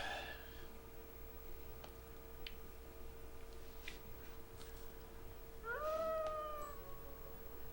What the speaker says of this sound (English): The howl at the beginning of the background music.